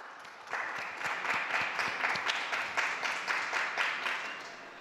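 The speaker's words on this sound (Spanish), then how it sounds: "un aplauso a todos los abuelos, a todos" Crowd of pilgrims in St. Peter's Square applauding the grandparents during the Pope's Angelus, a steady wash of many clapping hands from a distance, rising after a quiet start and fading slightly at the end.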